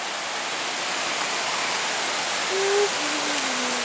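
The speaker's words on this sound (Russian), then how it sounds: "Водопад Палау." Pa La U waterfall in Thailand, a steady, even roar of falling water close by that fills the whole clip, with a faint brief whistle-like tone near the end.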